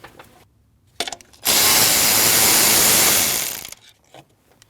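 A power tool, likely a drill or impact driver, runs loud and steady for about two seconds while taking out a 10mm bolt from the throttle body bracket on a 2014-2023 Jeep Cherokee 2.4L engine, with quiet clicks and handling noises before and after.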